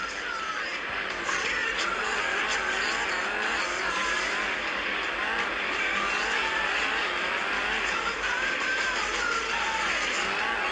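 Steady engine drone of a car rolling slowly through a busy city in a driving video game, continuous and even with no talk.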